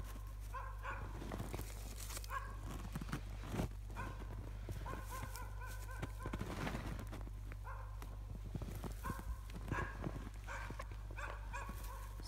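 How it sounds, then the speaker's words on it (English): A dog barks in short bursts at a distance behind a steady low hum, the barks coming in scattered clusters throughout. "Sorry about my dog barking in the background."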